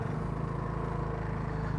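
A scooter engine idles and runs at a steady low rumble close by on a Tokyo street in Roppongi, a continuous even hum with no talk.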